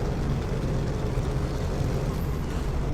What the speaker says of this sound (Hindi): और मैंने पेट्रोल पंप पर लगी हुई इस डिस्पेंसर मशीन के पास गाड़ी लगा दी।